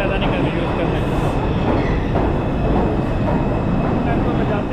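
A New York City subway train arriving at a station, a loud steady rumble and roar of wheels and cars filling the platform, with a voice faintly heard under the noise.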